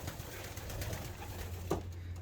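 Racing pigeons coo softly in a loft amid a steady low hum, with a brief louder coo near the end and no talk.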